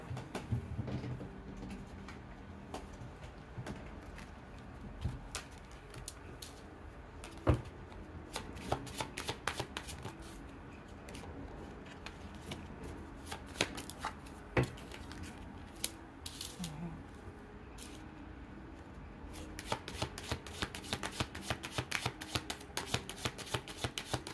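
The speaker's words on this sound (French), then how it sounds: "les cartes n'arrêtent pas de tomber" Tarot or oracle cards shuffled and handled during a card reading, a steady run of crisp riffling and slapping with sharp clacks as cards drop and land, close and fairly quiet, with no talking.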